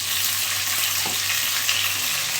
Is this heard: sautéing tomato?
yes